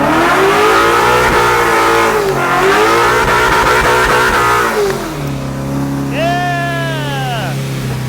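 A car engine at the 2021 Holley Ford Festival revs hard during a drift, a loud sustained roar that rises and falls, then drops to a lower drone as a high squealing tire whine sweeps in, with voices nearby.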